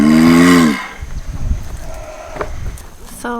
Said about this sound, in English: So we found the mating tortoises.